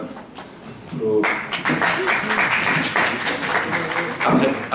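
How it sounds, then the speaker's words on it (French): Audience at a French talk or debate breaks into applause: scattered taps at first, then a sudden swell into full, steady clapping that continues to the end. "Après les applaudissements, s'il vous plaît."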